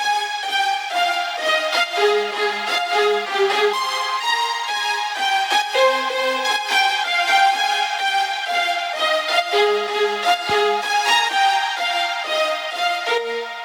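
Stacked string layers, including a Nexus Lord of the Violins patch, play together in a house track, giving a dense sustained chord progression with rhythmic pulsing and a brief low thump near the end, loud and alone.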